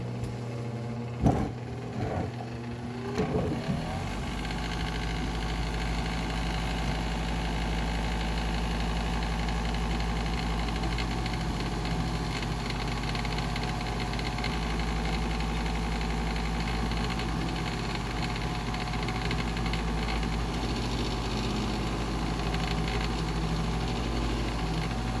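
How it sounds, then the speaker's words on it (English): An inside ring polisher motor, used on a wedding band, clicks and whirs up after a few seconds, then runs with a steady, fairly loud hum to the end with no talking. "I've got an inside ring polisher here too, but I just turned it on and it didn't work"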